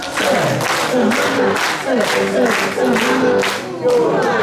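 A group at a church retreat claps in a rhythmic chant pattern while voices shout along, loud and close with repeated bursts of clapping and chanting.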